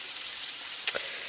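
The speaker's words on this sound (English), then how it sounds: "I have a bunch of sausage here that I've just been cutting up into like rounds. Frying that up." Sausage rounds frying in a pan, a steady bright sizzle with one brief louder spit near the end.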